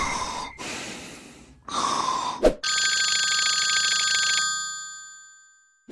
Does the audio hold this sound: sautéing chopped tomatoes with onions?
no